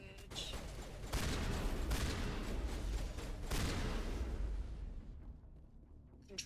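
Gunfire in the video game Mass Effect Legendary Edition: sustained bursts of shooting and rumbling blasts that fill most of the stretch, loud and continuous, then thin out toward the end.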